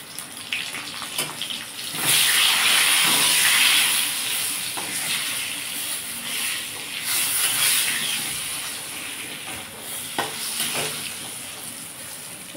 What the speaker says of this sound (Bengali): এদিকে আলুটা ভাজা হোক